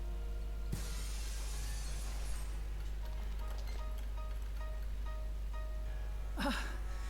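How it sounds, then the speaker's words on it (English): Glass breaks in the video game Dead Synchronicity, a sharp shattering crash followed by a light tinkle of falling pieces, over a steady low hum and faint background tones, with no talk. "let's cross our fingers that the seat cover absorbs the noise of the breaking glass"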